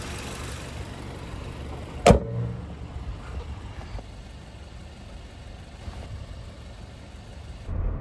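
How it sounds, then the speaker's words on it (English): A 2012 Mazda MX-5 with a 2-litre petrol engine and 6-speed manual gearbox shifts from 5th into 6th: one sharp mechanical clunk, then a steady low engine drone and road rumble, with no talking. "this Mazda MX-5 has a 2-litre petrol engine and a 6-speed manual gearbox in 5th gear going into 6th"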